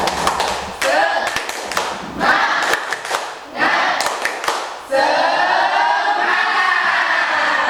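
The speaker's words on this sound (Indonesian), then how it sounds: "Ayo, satu kali tepuk semangat." A group performs a rhythmic Indonesian spirit clap, bursts of sharp patterned claps and thumps alternating with brief shouts, ending in a sustained crowd cheer with voices mixed in.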